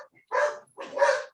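A dog lets out two short barks, close and clear, one after the other, with no other sound around them.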